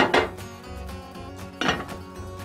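A lid set back onto a pot of chilli mac, giving two distinct metallic clanks about a second and a half apart, fairly loud and close, with a quiet ringing between them.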